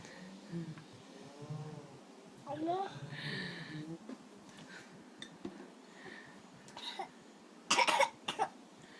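A small child gives a few short coughs amid quiet talk, followed later by sharp clinks of dishes and cutlery.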